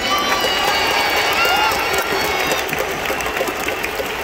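A stadium crowd roars after an extra-innings walk-off hit at a Hanshin Tigers game, a loud, dense, sustained cheer that stays strong throughout and buries everything else.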